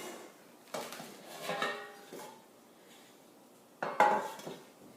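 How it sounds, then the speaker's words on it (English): Metal cake pans being greased with a butter wrapper and dusted with flour in a home kitchen: a few sparse clinks, taps and light scrapes, close and quiet, with long soft gaps and no talk. "we are going to butter and flour our pans"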